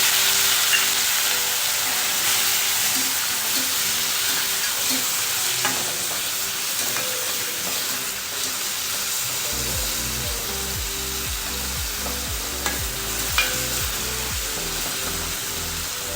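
Raw banana and capsicum simmer with a splash of water in a pan for a Gujarati sabzi. A continuous close sizzle and bubbling runs throughout, with occasional stirring scrapes and a low rumbling hum in the latter half.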